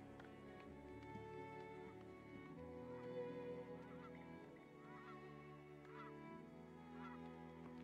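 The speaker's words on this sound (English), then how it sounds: "I like the geese coming in" Geese honk in the Farthest Frontier video game, several calls rising over a steady game soundtrack with dense, continuous background sound throughout.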